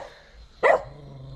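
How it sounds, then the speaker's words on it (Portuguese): A dog guarding a cemetery at night gives a single sharp bark that stands out against a quiet outdoor background. A faint low hum lingers afterward. "Acho que o cachorro é guarda do cemitério."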